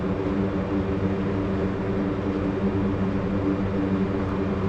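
Four-engine C-130J turboprop airliner running up on a takeoff roll in a flight simulator, a steady loud propeller drone with layered low harmonic tones throughout, no voices.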